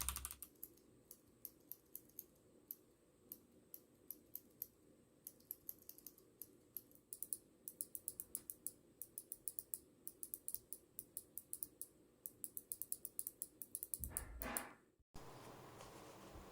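Rapid clicky keystrokes of a mechanical keyboard comparing Kailh Box White and Gateron Blue switches, close and crisp, typed in bursts with brief pauses, followed by a loud rustle near the end.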